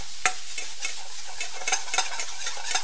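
Vegetable biryani ingredients with chili powder, green chilies and coriander are tossed together to marinate, producing soft repeated scraping and clacking strokes over a constant low hiss.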